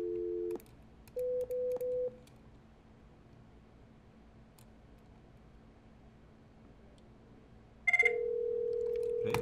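Desk phone in a call-center lab dialing extension 2000: a short tone, two brief keypad beeps, a quiet hiss, then a loud steady call tone at the end, with no talking.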